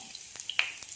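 Garlic sizzling in about two teaspoons of hot oil in a pan, a soft steady hiss with a few brief crackles and spits, quiet and with no talking.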